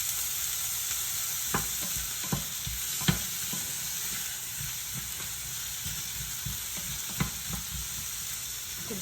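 Onions and celery sautéing in a hot pan, a steady close sizzle punctuated by irregular scraping knocks as a utensil stirs the vegetables, with no voices.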